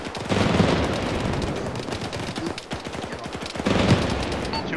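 Heavy, sustained gunfire from the Arma 3 military game, set in a desert, crackles in rapid bursts and overlapping shots throughout, loud and continuous, swelling again near the end.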